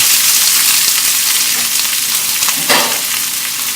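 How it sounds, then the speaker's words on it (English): Garlic and onion sauté in a wok of hot olive oil steeped with annatto seeds, giving a loud, continuous close-up sizzle with occasional stirring scrapes and no talk. "saute the onions and garlic together just until the onions begin to be translucent"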